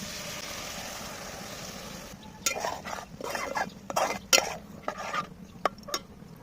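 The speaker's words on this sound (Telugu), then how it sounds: "టమాటా జర్రసేపు ఉడకంగానే మనం కలిపెట్టుకున్న మసాలా ఉంటుంది కదా, అంతిల్లా పోసుకుందాం." Masala mixture is poured and stirred into cooking tomatoes for egg biryani: a steady low simmering bed, then a burst of scraping, clinking spoon-and-pan sounds close by, quiet overall and with no talking.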